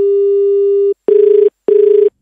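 A telephone line gives a loud, steady tone for almost a second, then two separate beeps at the same pitch, sounding close and clear with no speech.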